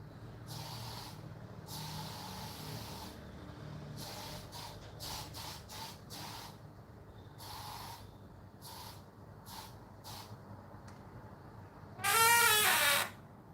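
An insecticide aerosol sprays against mosquitoes inside a house in a series of short, quiet hissing bursts, followed by one longer, louder spray near the end.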